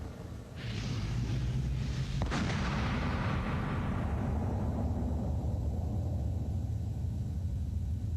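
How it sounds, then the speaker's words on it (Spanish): A musket fires with a thunderous explosion, a sharp loud crack followed by a long booming rumble that fades slowly over several seconds. "Una explosión increíblemente atronadora."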